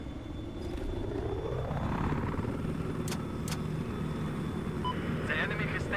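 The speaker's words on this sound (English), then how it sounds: "we're, me and Chris are in the attack chopper" An attack helicopter in a multiplayer shooter game keeps up a constant rotor and engine drone with a rising whine, while gunfire cracks and players talk over it.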